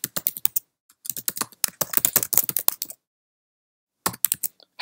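Rapid clicking of a Mac computer keyboard as a caption is typed, close and crisp in quick bursts separated by a pause of about a second, with no talking.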